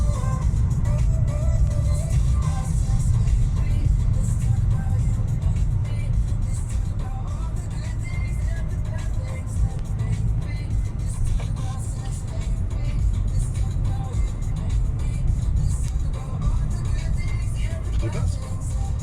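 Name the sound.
trucks driving in all directions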